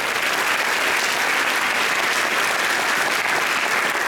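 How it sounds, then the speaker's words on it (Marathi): Loud, sustained applause from a hall full of students at an HSC board exam guidance event, a thick unbroken wash of clapping hands that stays at full strength throughout. "जोरदार टाळ्या वाजवतात."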